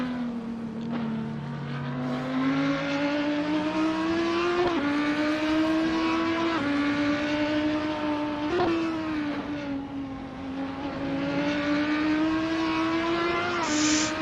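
GT3 race cars, including a McLaren and an Audi, race on a circuit. Loud, sustained engine drone rises and falls through repeated upshifts and throttle changes as the cars pass close by.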